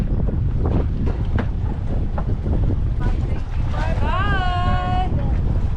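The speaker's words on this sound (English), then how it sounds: "we're taking them to the airport in our dinghy" A yacht's dinghy motoring away with guests and luggage: heavy wind buffets the microphone over a low, rumbling motor and water noise, and a voice calls out briefly near the end.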